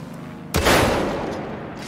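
A rocket launcher blast erupts in the Far Cry 5 video game, a single loud close explosion that hits suddenly and rumbles away over about a second.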